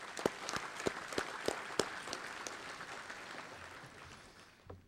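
A small crowd applauds at a sports hall of fame ceremony, with distinct claps at first that thin out and fade to quiet.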